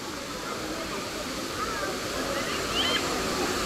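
Cold river water rushing at the Pozar bathing festival, a loud, constant broadband wash of flowing water with faint crowd sounds mixed in.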